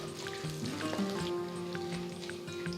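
Hot oil sizzles with mustard seeds popping and sputtering in quick irregular crackles over a steady kitchen hum.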